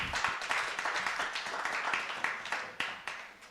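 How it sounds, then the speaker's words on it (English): Audience claps briefly in a hall at a civic panel discussion, scattered but steady hand claps, fairly faint and fading toward the end. "Please clap for her."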